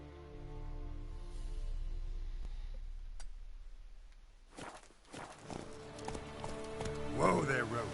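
Hooves of the horse Roach clip-clopping at a gallop in The Witcher video game, a steady thudding rhythm with background game music and a voice talking over it.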